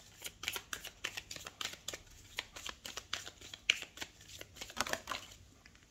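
Oracle cards being shuffled by hand, a quiet, close run of crisp riffling flicks and papery snaps in an irregular rhythm, with no voice over it.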